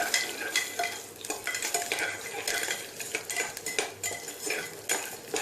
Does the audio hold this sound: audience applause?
no